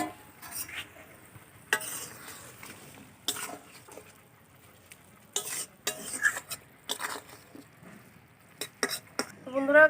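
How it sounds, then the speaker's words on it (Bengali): Fried tangra fish go into a simmering fish curry and are stirred with a utensil in the pot, giving intermittent scrapes and metallic clinks over a quiet bubbling background. "তো এবার দিয়ে দেবো ভেজে রাখা মাছগুলো।"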